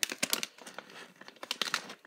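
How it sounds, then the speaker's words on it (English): Plastic toy packaging for Schleich figures is pulled and torn open at the top, making close, irregular crinkling and tearing crackles in quick bursts, with no talking. "I think we can open it from the top up here, so let's open it."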